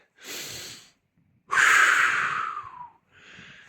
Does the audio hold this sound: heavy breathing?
yes